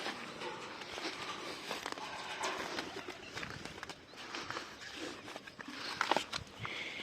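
Pigeons coo and rustle nearby, with fluttering wingbeats over a low, steady outdoor background.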